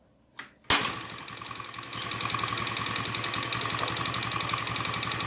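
A motorcycle engine fitted with a Kharisma carburetor fires up after a short starter whir and settles into a steady, close idle with a rapid even putter that holds for several seconds.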